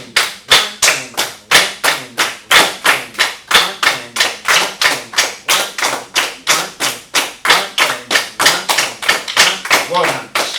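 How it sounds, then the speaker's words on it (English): A group claps a steady, even rhythm in unison along to the Zimbabwean folk song Mwana Mwangu Wakura, with loud, crisp claps repeating about three per second throughout. "So that's the clapping."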